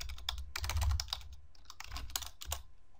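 Rapid clicking of computer keyboard keys, typed in quick irregular bursts, close and fairly loud with no voices.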